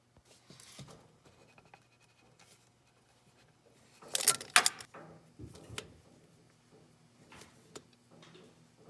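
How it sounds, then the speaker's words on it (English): An oil filter wrench works loose the oil filter on a 1998 Honda Civic, with a short burst of metallic scraping and grinding in the middle, surrounded by faint scattered clicks and handling noises in a quiet space. "I'm going to take this oil filter wrench and I'm going to stick it on the oil filter and hopefully crack it loose"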